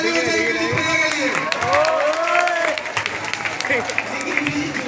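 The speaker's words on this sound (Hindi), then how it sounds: "जोरदार ताली हो जाएगी" An audience at a school farewell claps in a sustained round of applause with some cheering and crowd noise, while a voice talks over it.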